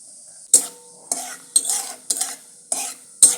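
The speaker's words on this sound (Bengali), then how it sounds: "এবার আমি তেলে দিয়ে দেবো দুটো শুকনো লঙ্কা এবার আমি দেবো কালো জিরে" Dried red chilies and nigella seeds sizzle in hot oil in a pan, heard as six crisp bursts of spitting and scraping, each stir followed by a short sizzle fading into near silence.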